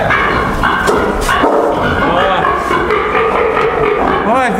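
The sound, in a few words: wild boars barking like a dog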